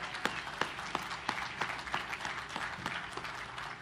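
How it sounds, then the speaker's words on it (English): Audience applause at the commissioning ceremony of the destroyer USS Jack H. Lucas (DDG 125), a steady dense wash of many hands clapping with a few sharper individual claps popping out, sustained and moderately distant throughout. "Big round of applause to industry making that happen."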